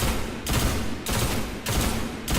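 Red Death pulse rifle from the Destiny video game firing on full auto, three loud sustained bursts of rapid shots separated by short gaps.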